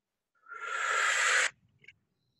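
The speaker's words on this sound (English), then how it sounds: "deep breath in." One deep breath is drawn in through the nose, a close, steady airy rush lasting about a second before it stops, with a faint stir afterward.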